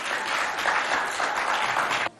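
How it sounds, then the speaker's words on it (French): A school audience applauds a student invited up to recite a poem at a CEG de Belaba event in Moundou, a dense steady burst of clapping that holds for about two seconds and then stops abruptly. "sous vos applaudissements"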